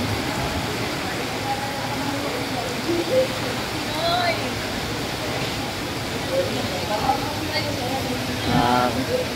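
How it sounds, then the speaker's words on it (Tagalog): Strong rush of the Marikina river swollen by continuing rain, a steady loud wash of flowing water throughout, with a person talking over it. "Malakas na yung tubig idol. Tuloy pa rin umuulan."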